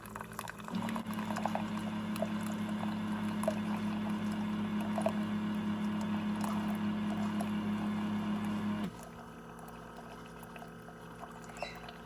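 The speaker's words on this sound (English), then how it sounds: "See how it's spitting? There's hardly any coffee in there." A coffee maker spits and gurgles during a descaling cleanse, a steady bubbling, hissing boil with a low hum that runs continuously up close, then drops abruptly to a quieter background near the end.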